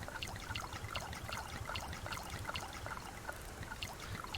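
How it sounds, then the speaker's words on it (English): Water being collected in the survival game Subsistence, a steady trickling, dribbling stream of liquid, continuous and close, with small splashy droplets throughout and no talking. "Let's get a bunch of water."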